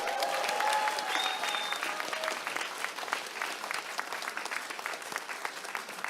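An audience at a Democratic Party concert in Daegu and Gyeongbuk breaks into a big, steady round of applause for the guests, dense clapping that slowly thins toward the end.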